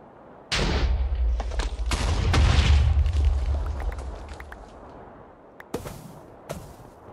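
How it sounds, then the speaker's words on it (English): A loud explosion bursts in the FTB Skies modpack, rumbling and fading over a few seconds, followed by a couple of sharper, shorter blasts. "That's exploding here, that's not good."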